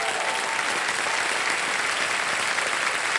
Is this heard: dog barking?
no